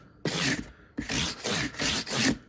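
A file rasps back and forth across the top of a metal fret on a cigar box guitar neck, taking off a sharp burr: five close, steady scraping strokes with short pauses between.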